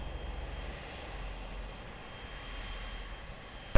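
Aircraft taking off at Lisbon Airport, heard from a distance: a steady low engine roar with a faint whine, even and continuous, with no voices.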